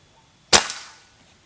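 A single sharp gunshot from a Monster Extra Plenum 500cc air rifle cracks once, then decays quickly into quiet.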